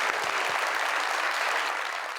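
A studio audience at a televised talk show applauds with dense, steady clapping that stays loud throughout and eases slightly at the end, with no talking.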